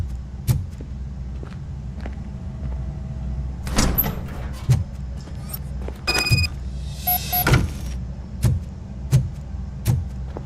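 A car door opening in RoboCop Rogue City, with a few sharp clunks and a rattling mechanical burst near the middle over a steady low in-game hum, no voices.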